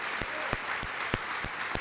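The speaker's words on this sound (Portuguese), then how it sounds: "vamos ter liberdade para aplaudir estas" Rhythmic clapping in a worship service, a broad wash of hands with strong regular beats about every third of a second, loud and continuous, with no speech over it.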